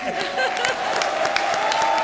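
Studio audience on a TV comedy show clapping, a brief, dense burst of applause with a faint tone running beneath it.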